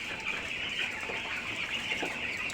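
Chickens cluck softly amid a constant high-pitched background buzz, with a few scattered calls.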